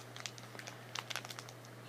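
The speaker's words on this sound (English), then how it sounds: "Getting a plastic bag or a Ziploc bag and pulling that tight around your nail" A plastic Ziploc bag crinkles in light, irregular bursts as it is pulled tight around a fingernail, faint and close against a low steady hum.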